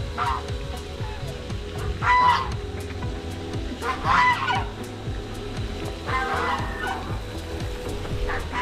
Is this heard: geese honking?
yes